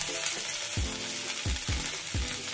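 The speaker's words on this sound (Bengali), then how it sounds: "এই তেলেই দিয়ে দিলাম একটা শুকনো লঙ্কা ফাটিয়ে, আর দিয়ে দেব 1/4 টিস্পুন গোটা জিরে" Dried red chilli and whole cumin crackling in hot oil, a steady loud sizzle with a few distinct low pops about every half second.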